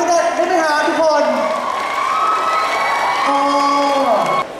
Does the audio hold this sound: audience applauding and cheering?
yes